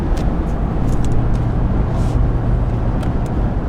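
Ford F350 pickup with a 7.3L engine cruising at 65 mph in tenth gear, just under 2,000 rpm, giving a steady, loud low drone of engine and road noise with a constant hum throughout and no talking.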